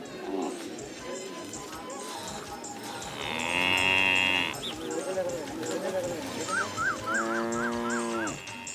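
Oxen and other cattle at a monthly ox market cattle fair in Nepal, with loud, drawn-out moos rising over a busy crowd murmur, a second lowing call coming near the end amid general livestock noise.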